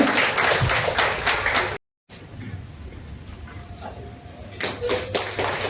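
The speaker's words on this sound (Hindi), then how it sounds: "इनके लिए जोरदार तालियां, धीमी धीमी तालियां करती है" Audience applause for a third-place student at a school results ceremony, a dense patter of clapping that breaks off briefly, returns softer under faint talk, then swells again near the end.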